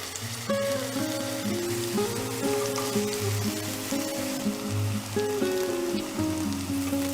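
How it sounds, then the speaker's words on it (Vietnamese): Eggplant pieces frying in about four tablespoons of hot oil in a pan over medium heat, a steady dense sizzle with crackling pops throughout, close and alone. "Khi dầu nóng thì mình cho cà tím vào chiên với lửa vừa."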